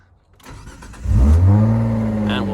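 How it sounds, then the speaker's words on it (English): Mitsubishi FTO GPX facelift with a 5-speed manual starting up, a short crank followed by the engine catching and settling into a steady, close, loud running note. "And let it run."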